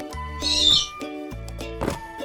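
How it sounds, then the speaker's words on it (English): Snowy owl call in a children's animal program: two sustained harmonic hooting cries, near and fairly loud, with a brief higher squawk near the end, alone without talk. "It's a snowy owl."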